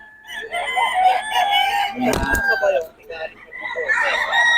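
Several roosters crow nearby, calls overlapping and trailing off, with a brief rattling bump in the middle and more crowing toward the end.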